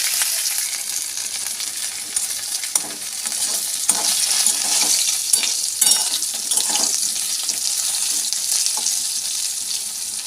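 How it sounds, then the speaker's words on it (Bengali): Panch phoron spices, chillies and vegetables frying in hot oil, a loud continuous hiss and splutter with scattered crackling pops and occasional stirring, close by and alone. "পাঁচ ফোড়ন দিয়ে দিলাম এটা ভেজে নেবো"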